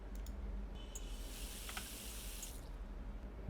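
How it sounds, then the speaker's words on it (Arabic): Tap water runs steadily into a cooking pot in a kitchen, a soft hiss with a few small clicks and drips around it. "الحله هنحطها هنا طبعا، نملاها ميه"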